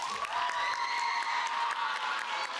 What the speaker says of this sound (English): please give a big round of applause to all of your parents and guardians